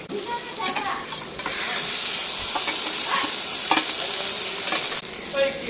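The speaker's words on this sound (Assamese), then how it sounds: "তেজপাত এইখিনি ভাজি লওঁ ভালকৈ পিঁয়াজটো পুৰা ৰংচুৱাকৈ ভাজি ল'ব লাগে" Onions and bay leaf fry in oil in a pan for chicken curry, a loud continuous sizzle with repeated scraping stirs of a spatula, close up and steady, with brief faint voice-like sounds.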